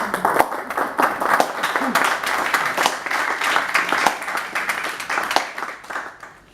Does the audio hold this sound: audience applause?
yes